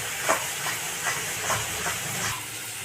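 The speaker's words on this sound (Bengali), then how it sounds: "এবার গ্রেভিটাকে কষে নেব।" Biryani gravy with Kashmiri chilli powder and biryani masala sizzles and hisses in a pan, a steady frying crackle with a few soft stirring scrapes over about three seconds.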